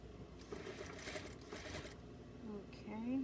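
A sewing machine top-stitches a seam on a doll romper, running in a close, steady whirr that stops and starts, with a person talking quietly over and after it.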